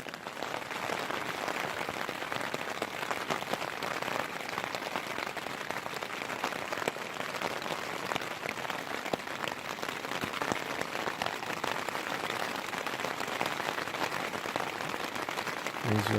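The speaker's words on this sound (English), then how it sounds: "As you'll get used to the rain" Steady rain patters densely on a tent at night during wild camping in the Scottish Highlands near Glenfinnan, a continuous close hiss of drops with no pauses.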